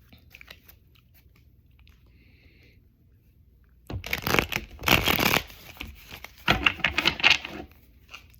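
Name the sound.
shuffling tarot cards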